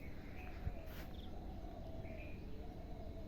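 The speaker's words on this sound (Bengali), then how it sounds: "চারিদিকে কি সুন্দর পাখির আওয়াজ শোনা যাচ্ছে" Birds call outdoors on a cloudy, cool morning at a farmhouse, faint chirps and short whistled notes scattered over a soft steady background, distant and sparse, with no talking.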